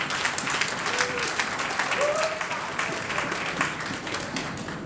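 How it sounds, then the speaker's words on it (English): Applause from a crowd at a cycling club awards night, a continuous wash of many hands clapping at moderate distance, steady throughout with faint voices and a whistle or call over it. "Round of applause, please."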